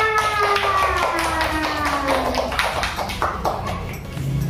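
Children clapping together in a classroom, a run of quick rhythmic claps heard throughout, with a voice and faint tonal sounds underneath.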